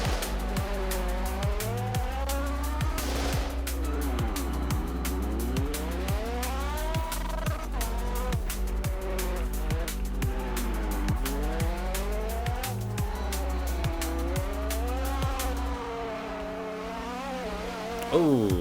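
Tires squeal steadily through a Porsche drifting in the Roblox game, the high wavering screech sliding up and down in long arcs over a constant low engine drone, loud and close for the whole stretch.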